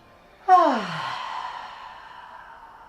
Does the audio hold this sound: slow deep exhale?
yes